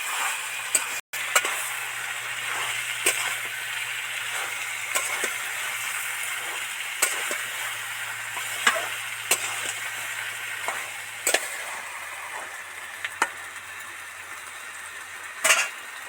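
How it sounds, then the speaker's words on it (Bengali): Malabar spinach greens stirred into a pan with a spatula, giving repeated scraping clicks and soft knocks at an irregular rhythm over a low background hum, quiet and close. "এবার এর মধ্যে দিয়ে দিচ্ছি ভালো করে নেড়ে চেড়ে মিশিয়ে দেবো"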